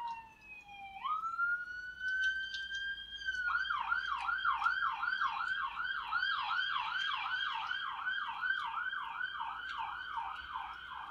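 An ambulance siren wails in a rising sweep, then switches to a fast repeating yelp that holds steady as the vehicle passes nearby, loud and clear with no talk.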